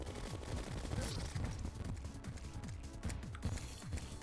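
Crystal Bullets fire rapidly in Terraria, a dense, continuous burst of gunfire with a fast, rattling rhythm that stays loud throughout.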